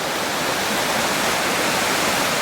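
North Fork of the Koyukuk River in Gates of the Arctic, its flowing water a loud, steady, broadband rush that fills the whole moment with no other sounds.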